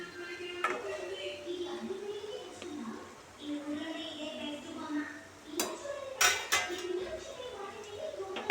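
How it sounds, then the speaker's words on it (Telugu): Malai khaja fry in oil in a pan, with a faint sizzle under metal spoon clinks and scrapes against the pan as the pieces are stirred, and a voice murmuring in the background. "కొంచెం కదుపుకుందాం"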